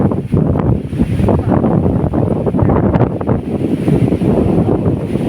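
Strong, continuous wind roaring and buffeting the microphone, loud and close, with no voices.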